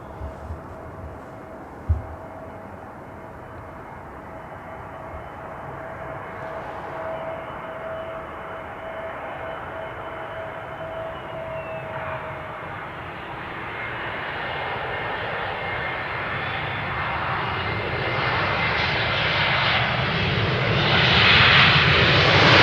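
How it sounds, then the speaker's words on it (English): A passenger airplane lands on runway 18R at Amsterdam Schiphol Airport, its engine roar a steady broad rumble that grows steadily louder and closer as it comes down, with no voices. "our next airplane is about to touch down"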